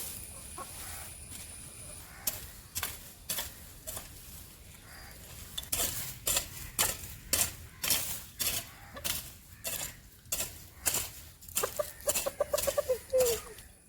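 Chickens cluck repeatedly in short bursts, close by and fairly loud, with a few busier squawks near the end.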